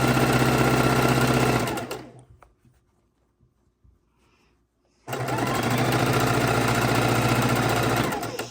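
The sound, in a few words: sewing machine stitching jelly roll quilt strips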